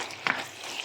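Ground beef browning in a hot pan for chilli con carne gives a brief, close sizzle with a quick stirring scrape, heard alone.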